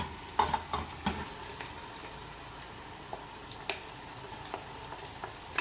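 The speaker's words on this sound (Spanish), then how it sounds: "Ahí salteamos la carne." Beef sautéing in a pan with onion and seasonings for charquicán, a soft steady sizzle with a few brief clatters of stirring, fairly quiet and close.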